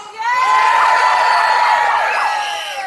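Crowd at a Save our Stroke Services protest lets out a big sustained roar, a mix of voices shouting and whooping loudly together for a few seconds before tapering slightly.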